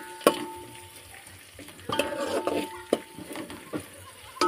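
Onions sautéing for kanda poha in a pan, with a soft sizzle under repeated scraping and stirring clacks of a spoon against the pan, close and moderately quiet.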